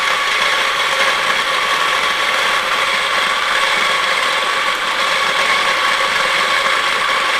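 A home-use electric coffee grinder grinding beans whirs loudly and continuously, a dense grinding rattle that holds steady without pause.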